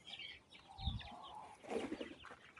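Month-old chicks, about 200 of them, cluck and peep softly, with scattered high chirps and a low thump, faint and close in a quiet setting.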